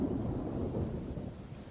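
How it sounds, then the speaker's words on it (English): A deep roll of thunder rumbles over a steady wash of rain, loud at first and slowly fading across the short stretch. "Thunder and rain?"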